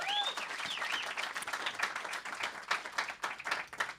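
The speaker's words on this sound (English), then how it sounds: "Round of applause." Audience applause at a live South African political talk show event, a steady patter of clapping from a moderate crowd, fairly faint and continuous for a few seconds with no talk over it.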